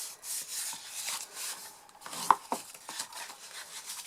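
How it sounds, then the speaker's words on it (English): Paper card stock being folded and its score lines burnished, giving close, dry rubbing and scraping strokes with a few light taps and no talk. "we then come in to do our folding and burnishing of all our score lines"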